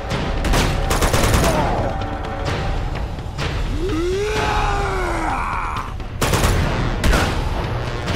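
Rapid gunfire bursts and fusillades from a final boss fight in the video game Uncharted 2: Among Thieves, loud and continuous through most of the stretch, mixed with groans and yells.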